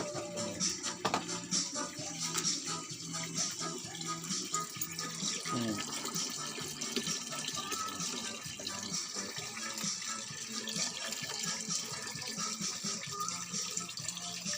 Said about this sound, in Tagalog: Dami na tubig. Sobra na yun.